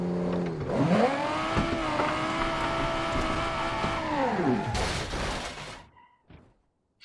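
A 2020 concept Viper car built in the Automation game revs up hard and holds a high, steady engine note. It cuts off abruptly into a brief noisy burst, then fades to near silence.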